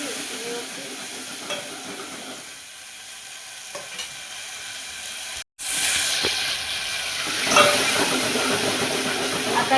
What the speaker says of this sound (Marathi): त्याला 2 मिनिटं तेलामध्ये छान परतून घ्यायचे व्यवस्थित आपल्याला